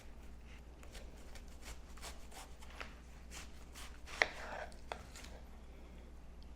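A knife cuts through a watermelon in a series of quiet, rhythmic rubbing and slicing strokes close up, with a couple of sharper knocks near the end, faint overall and without talking.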